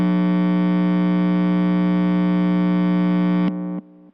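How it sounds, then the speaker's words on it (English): A sustained, buzzing guitar distortion pedal tone with a steady hum from ground noise, held loudly for a few seconds before stepping down and cutting off. "if I put the distortion on"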